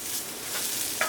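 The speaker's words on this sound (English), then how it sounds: "We're gonna saute this for about a minute" Garlic sautés in a hot pan for a lentil stew, a soft continuous sizzle with a brief utensil tap near the end.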